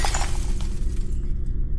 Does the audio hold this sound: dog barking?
no